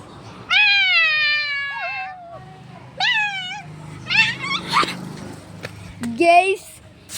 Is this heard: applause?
no